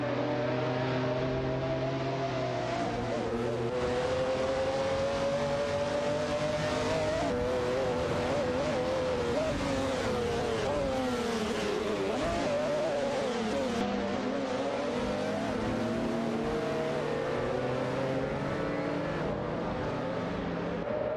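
Race cars roar around a track in a continuous, loud engine drone that rises and falls as they accelerate, shift and pass, with no voices.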